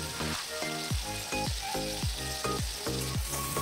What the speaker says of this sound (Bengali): আলু এবং মশলাগুলো কষতে কষতে যখন তেল ছেড়ে যাবে তখন দিয়ে দিলাম হাফ টেবিল স্পুন গরম মশলা।